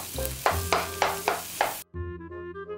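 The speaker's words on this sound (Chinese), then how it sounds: "再加点油，我们来炒个蛋" Egg frying in hot oil in a wok for durian fried rice, with several sharp stirring scrapes over a steady sizzle, then a brief cut and a quieter, tonal stretch at the end.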